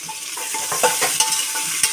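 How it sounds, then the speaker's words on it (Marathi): Tomatoes sautéing with onions in a pan for pulao give off a steady, close sizzle and hiss, with a few soft scrapes and clinks of stirring. "टोमॅटो थोडंसं परतून घ्यायचं।"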